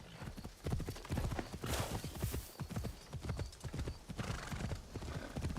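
Horse hooves clip-clop steadily in Assassin's Creed Shadows, a fast continuous trot close up with an occasional whinny over game ambience.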